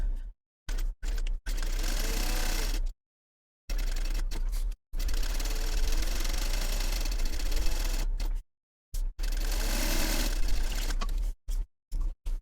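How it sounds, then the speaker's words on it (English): A sewing machine bastes around the edge of a mesh panel on a fabric cube using long stitches, running in loud sustained stretches broken by a few short stops and brief taps. "Now I want to baste the perimeter using a 1/8 inch seam allowance. And because I'm basting, I'm using a stitch length of 5."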